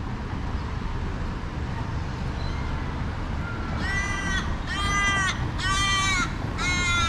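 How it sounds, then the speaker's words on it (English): Crows give four loud, harsh caws in quick succession on the Kiama Blowhole walk in Australia, heard over a steady bed of outdoor traffic and wind noise. "I don't think those are magpies. I think those are just good old crows."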